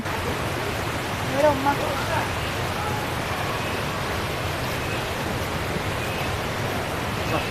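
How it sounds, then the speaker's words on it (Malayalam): A steady, loud roar of rushing water fills the air at a cool forest spot on the way to Brahmagiri, continuous and close, with faint voices barely surfacing beneath it. "ഭയങ്കര ഒച്ച വെള്ളത്തിന്റെ"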